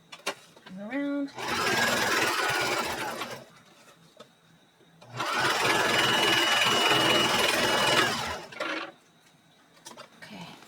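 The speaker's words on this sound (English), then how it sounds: "Oh, I had it on straight stitch." An electric sewing machine stitches pages of a junk journal made from old books, running in two long steady whirring bursts with pauses and short starts between them, close and fairly loud. A brief voice is heard.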